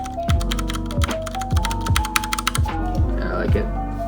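Mechanical keyboard with Cherry Brown switches clacks in quick irregular bursts, with a soft tactile thock on each press, close up, over a low steady hum.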